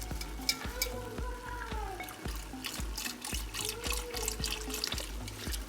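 A whisk taps and swishes through bone broth in a pan of thickening white chicken chili sauce in a steady rhythm, with soft bubbling and sizzling underneath.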